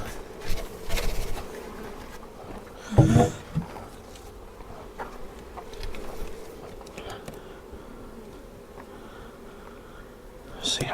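Honey bees buzzing around an open hive during beekeeping, a steady low drone running throughout with a few louder bumps and brief handling noises near the start.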